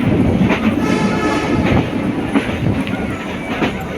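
A train at Rajshahi station in Bangladesh, pulling out on schedule: a loud, steady rumble of rolling wagons with clickety-clack wheel beats, close and continuous throughout.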